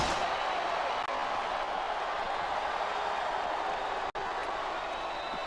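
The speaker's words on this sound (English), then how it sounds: "Wow, listen to that chant." Video game wrestling arena in WWE SmackDown vs Raw on PS2, where a dense crowd roar holds steady and loud throughout, with a chant barely separable from the wash of noise and a brief cut near the end.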